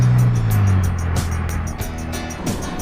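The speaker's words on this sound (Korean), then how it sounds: "포르쉐의 독보적인 기술, 엔진의 소리는 저음의 엇박자로 비유되곤 한다." A Porsche engine gives a steady, deep, low-pitched rumble with a slightly uneven beat, close and loud throughout, with no talking.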